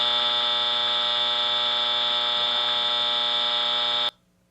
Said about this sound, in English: that is a mechanical horn. They don't make those anymore, except for like industrial applications